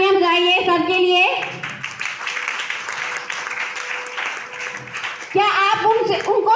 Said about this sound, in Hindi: एक बार मैं चाहूँगी कि आप जोरदार तालियां बजाइए सर के लिए